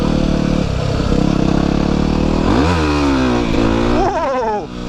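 Yamaha WR250R motorcycle doing a burnout with its rear wheel spinning on an abandoned road, the engine loud and close, revving hard with rising and falling pitch sweeps as the tire spins out.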